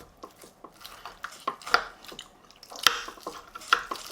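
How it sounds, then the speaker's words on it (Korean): A knife slices into an oven-roasted duck leg confit with soft, quiet scraping and a few sharper clicks against the plate or board, the sounds spaced out irregularly in a hushed setting without speech. "우리 다리 오븐 구이 한번 썰어볼게요"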